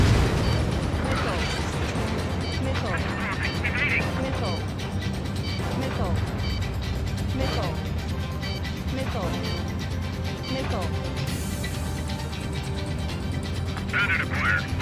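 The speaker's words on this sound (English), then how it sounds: "Strider 3, launching missile." In-game combat from Ace Combat 7 on PS4 Pro during the Bunker Buster mission: a missile launch amid repeated whooshing bursts and explosions over a steady jet-engine roar, with radio voices talking throughout.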